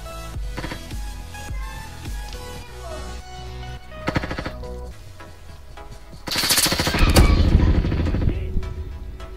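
Rapid automatic gunfire from a video game shooter, loud bursts that swell into a denser, heavier barrage near the end, with no talking.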